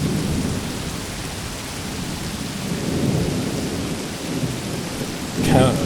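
Steady heavy rain in the wargame Combat Mission, set in Leningrad 1941, with rolling thunder rumbling through it and swelling around the middle; a brief sharper burst comes near the end.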